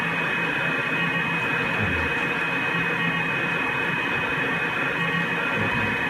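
Repeating sequence of tones from ISEE-3 satellite telemetry, picked up with a software-defined radio, buried in steady hiss and static with a faint, even pattern throughout and no talk.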